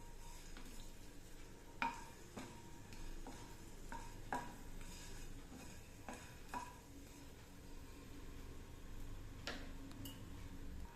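A piece of lump asafoetida frying in oil while mint thokku is cooked, a faint, steady sizzle with scattered small clicks and taps of a utensil in the pan.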